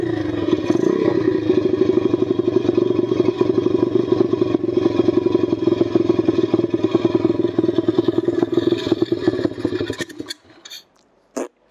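A cold dirt bike engine, just repaired after a crash, runs at a fast, rough idle with a steady putter for about ten seconds, then sputters, coughs and stalls, leaving a few faint clunks.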